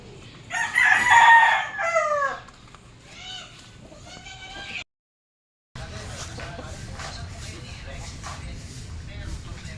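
Derby gamefowl roosters in new cages crow loudly and repeatedly, with clucking and other farm animal calls; after a brief gap the birds keep calling more steadily in the background.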